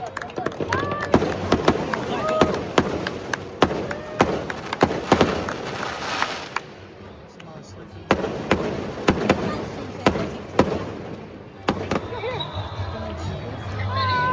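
Fireworks at a Chinese New Year celebration in Malaysia burst in sharp, irregular volleys of loud cracks and pops, with brief lulls between them, while people chatter nearby throughout.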